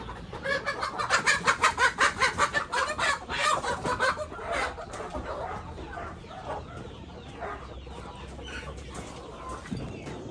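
Ready-to-lay backyard hens about five months old cluck in a rapid rhythmic run of loud, close calls, then settle into scattered softer clucks and rustling against a low background hum.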